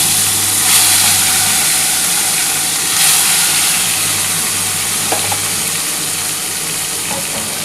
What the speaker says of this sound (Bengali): এবার আরও 3 পিস বাকি আছে, সেটা আমি ভেজে নিচ্ছি।